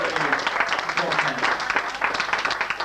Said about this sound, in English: a nice round of applause for four fellows who have worked very hard for us